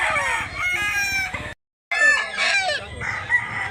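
A gamecock crows loudly at a gamefowl farm crowded with many chickens, with other birds calling around it; there is a brief silent gap, then more crowing and clucking close by.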